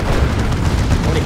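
A grenade blast in the real-time strategy game Dawn of War 2: Retribution, heard as a dense, loud burst of booming noise that rumbles steadily through the whole short moment.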